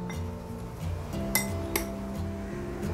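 A spoon clinks and scrapes against a bowl while paneer is mixed with black pepper powder, salt and kasuri methi, with soft stirring and a few sharp metallic taps, close and fairly quiet.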